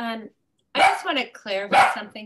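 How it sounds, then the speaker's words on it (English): A dog barks in a home during an online school board business meeting, giving a few short sharp barks mixed in with a man's nearby speech. "that's the dog in the background"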